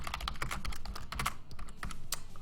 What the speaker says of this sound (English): Don't mind the programmer typing naughty things.